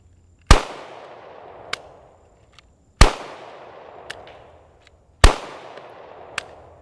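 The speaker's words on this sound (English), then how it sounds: "Let's just go ahead and see if we can get the gun working just by shooting it" A SIG P320 pistol caked with mud for a torture test fires three loud, sharp shots a couple of seconds apart, each followed by a fainter click or clatter and a short echoing decay, with no speech.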